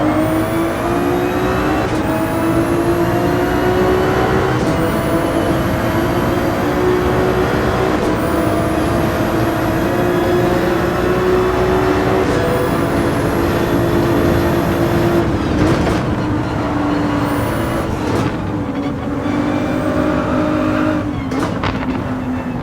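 Ferrari 296 GT3 race car engine lapping the Nürburgring in Gran Turismo 7, a loud continuous drone with repeated rising revs and sharp upshift drops, plus a few harsher downshift blips near the end.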